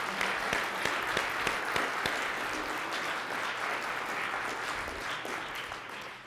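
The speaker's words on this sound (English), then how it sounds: "Please give him a warm round of applause." Conference audience welcoming a keynote speaker with steady, moderately loud applause, a few close sharp claps standing out from the broad clapping before it gradually thins.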